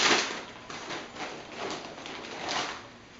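Revit Airvolution leather motorcycle gloves, size 2X, get pulled from a small plastic bag, making a few soft rustling, crinkling bursts close by with no talking.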